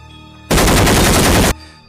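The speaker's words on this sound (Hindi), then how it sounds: "तभी कालिया बॉस ने उन चारों को फायर करके मार दिया।" A loud, dense burst of cartoon gunfire lasts about a second as four players in a Red Light Green Light game are shot, a rapid machine-gun rattle that cuts off sharply.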